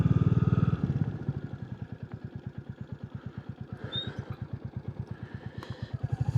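A Royal Enfield Classic 350 motorcycle on a Scottish road, its single-cylinder engine thumping steadily and close up in an even, throbbing pulse, swelling louder at the start and end, with no talking.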